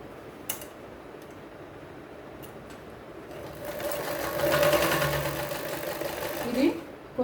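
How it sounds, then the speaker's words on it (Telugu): A sewing machine stitches crosswise across a pocket on a school uniform, whirring up in the latter half of the clip after a quieter start with faint clicks, while someone talks nearby. "కొంచెం క్రాస్గా కుడుతున్నాను"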